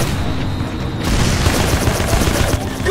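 Continuous dense gunfire and explosions in the Rogue Trooper Redux shooter, a loud, busy battle din that swells after the first second and holds steady, with a voice faintly mixed in.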